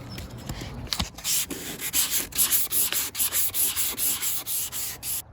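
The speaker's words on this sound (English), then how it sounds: "start with the 400 grit sandpaper" Steady back-and-forth wet sanding strokes with 400 grit sandpaper rasp against a plastic headlight, close and fairly loud, in a regular rhythm of about two strokes per second.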